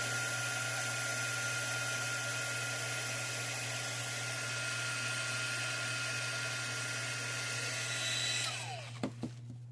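A heat tool blows steadily and loudly for about nine seconds, drying thick embossing powder on a gourd, then cuts off with a few clicks and knocks at the end.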